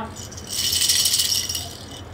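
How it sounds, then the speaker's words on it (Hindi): A toy rattle is shaken quickly for about two seconds, producing a bright, busy clatter that swells and fades, close by. "रेटल की आवाज है शाहबाज"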